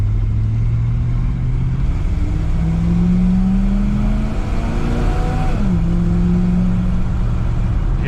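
A 1971 GMC 1500 pickup truck accelerating as its engine note climbs, drops with a gear shift, then climbs again, heard close up with no talk.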